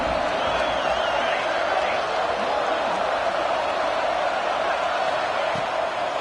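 A stadium crowd in the College Football 26 video game roars and cheers as a steady, distant-sounding wall of noise after a big third-down play, with commentary voices faintly under it.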